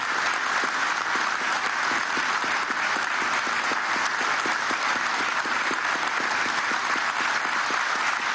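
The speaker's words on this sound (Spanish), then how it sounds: "Un aplauso muy especial pido para Ali Rodríguez y para Álvaro Silva Calde" Sustained, dense applause from a large audience at a ceremony marking the 55th anniversary of OPEC, steady and loud throughout with no break.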